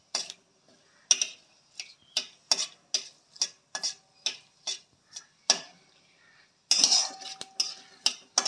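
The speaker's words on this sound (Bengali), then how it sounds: "তেজপাতা দিলাম, ভালো করে নাড়িয়ে নেব" Bay leaf and nigella seeds being stirred in a pan with a metal utensil, heard as a string of sharp, close scraping clicks about two per second over near silence, with no voice.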